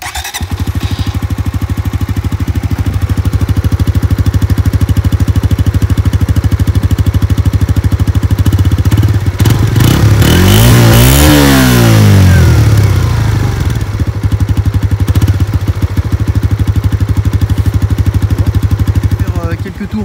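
A new Suzuki GSX-R 125 motorcycle, still being broken in, idles with a steady buzzing drone, then revs up sharply in the middle and drops back to a rough idle. The engine is close and loud throughout.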